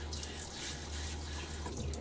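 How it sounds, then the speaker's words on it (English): Tap water splashing and running into a sink as a man rinses his face before a wet shave, a steady close wash of water with no talking. "throw a little water on my face."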